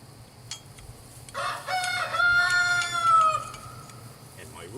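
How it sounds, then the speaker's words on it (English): A rooster crows once nearby, a drawn-out call over faint background hum from a generator. "and my rooster goes,"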